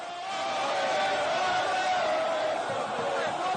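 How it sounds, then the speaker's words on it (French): Dense crowd of football supporters cheering and roaring as players arrive in a charged atmosphere, a continuous loud wash of massed voices with no gaps. "face à la foule qui les acclame"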